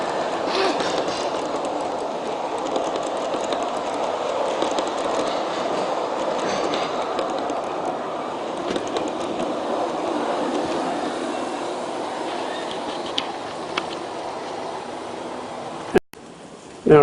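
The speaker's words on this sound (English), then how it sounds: "the train pulling the intermodal cars plus several others coming around approaching the viaduct" A USAT SD70 large-scale model train pulls intermodal container cars around an outdoor garden layout, a continuous rolling rumble with light clickety-clack and faint wheel squeal, fairly close and steady throughout.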